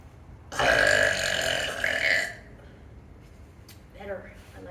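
A person burps loudly in a public park, one long drawn-out belch lasting nearly two seconds, close and prominent, followed by a short faint voiced sound afterward.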